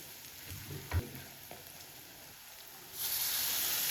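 Tamarind dropped into a pan of reddened frying onions and turmeric for tamarind rice gojju, with a few soft thuds and stirring scrapes, then a loud steady sizzle surging up and holding to the end.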